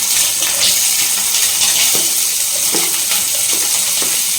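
Onions go into hot oil in a pan while jeera samba rice pulao is being cooked, giving a loud, steady hiss of sizzling with occasional soft pops.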